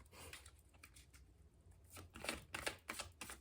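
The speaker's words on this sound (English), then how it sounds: "Still shuffling." Tarot cards shuffled by hand in quiet surroundings, giving soft, rapid riffling and flicking bursts that grow busier and louder toward the end.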